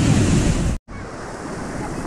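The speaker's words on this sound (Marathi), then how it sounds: "इकडे आलेल्या पाण्याचा वरना फ्लो पडतो" Water from a small natural waterfall in Konkan during the rainy season pours in a loud, steady broadband rush close to the microphone, broken by one brief dropout, with wind buffeting mixed in.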